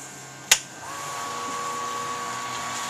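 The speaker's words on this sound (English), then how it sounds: "So we're going to turn the pump on." An electric March pump on an all-grain brewing rig switches on with a sharp click, then settles into a steady, moderately loud hum and whine that persists alone.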